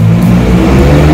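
A Ferrari sports car on a street in Paris's 16th arrondissement gives a loud, close engine drone with a deep harmonic growl that holds steady over about a second, without any talk.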